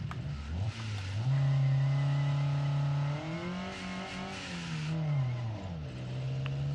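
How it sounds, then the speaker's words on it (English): A truck engine in BeamNG.drive runs at full throttle in fifth gear, a loud steady drone whose pitch rises slowly and wavers as it strains to gain speed. "That's full throttle, and she's barely accelerating at all in fifth gear."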